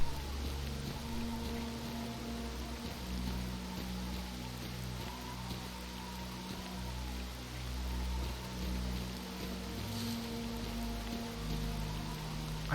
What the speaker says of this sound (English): That church looks spooky in the rain.